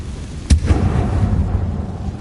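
A Confringo blasting spell explodes in a Harry Potter video game: one sharp, loud burst with a quick echoing follow-up, then a rumbling low background bed.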